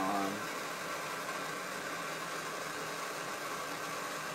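A blow torch heats copper pipe for soldering, giving a steady roaring hiss close by that runs unbroken after a brief louder start, with no voices.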